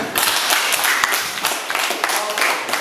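Classroom applause with many hands clapping together in a dense, steady burst that fills the room for about three seconds.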